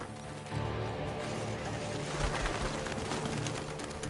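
Birds in Red Dead Redemption 2 cooing and fluttering in a field, heard against a dense, steady wash of game ambience with a few low thumps, moderately loud.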